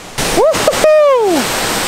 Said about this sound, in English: But this waterfall here looks absolutely epic.